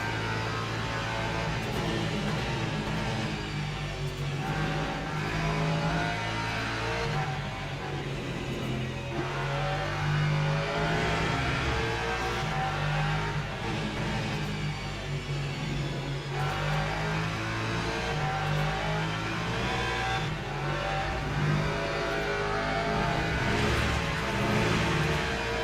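A Lexus race car engine in the Le Mans Ultimate racing sim during a 12-hour team event drones loudly and steadily for the whole stretch, its pitch rising and falling with throttle, with no talking.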